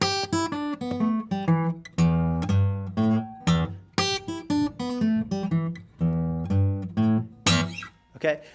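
Fingerpicked blues guitar riff, stepping down the minor pentatonic scale to land on E, played as several clear descending phrases with short gaps between them, close and alone.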